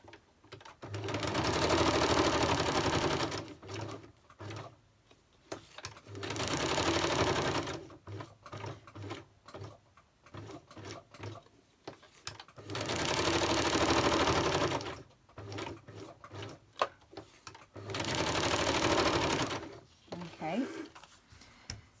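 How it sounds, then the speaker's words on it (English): A sewing machine stitching around an image on Arteza felt runs in four long, steady whirring bursts, with quieter pauses of fabric handling and a little talking between runs. "So I'm going to stitch around the image."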